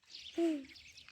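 A single bird call, a short descending tonal chirp, rings out clearly outside a village primary school gate amid faint background ambience.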